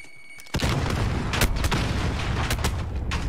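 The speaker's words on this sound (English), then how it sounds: "They're just shooting at me." Sustained gunfire in a competitive shooter video game, with dense bursts of shots and booming impacts running continuously after a brief quiet opening.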